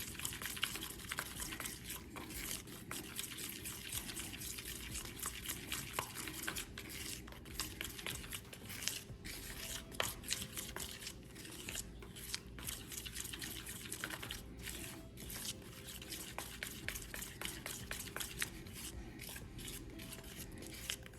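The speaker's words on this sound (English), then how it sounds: "Make sure you're scraping the edges, and just keep stirring it until you get it perfectly smooth." Melted marshmallow mixed with coconut oil, stirred and scraped around a bowl until smooth, giving a steady run of soft wet scraping and sticky clicks that repeat close by and fairly quietly.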